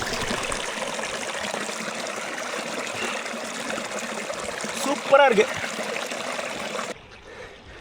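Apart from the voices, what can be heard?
mountain stream flowing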